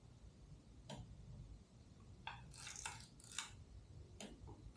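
Torque wrench on the clutch cover bolts of a 1982 Honda Magna motorcycle, a few faint sharp clicks and metallic ticks spaced irregularly, close and quiet with no talk.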